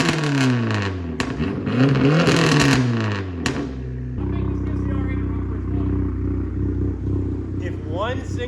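Dodge Neon SRT-4 with heavy aftermarket mods driving, sunroof open, the engine revving up and down loudly at first, then settling into a steady droning cruise.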